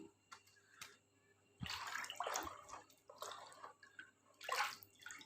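Liquid swishes and sloshes as EM4 and molasses are stirred into rice washing water, with intermittent splashy bursts and faint drips, moderately close and fairly quiet, with no talking.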